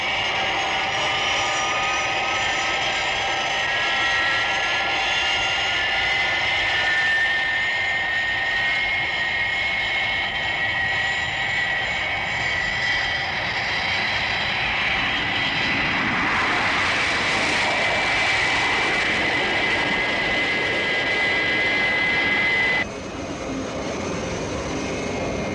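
A jet aircraft in flight, its loud, steady engine roar filling the whole stretch, swelling in brightness partway through, then dropping slightly in level near the end, with no separate boom standing out.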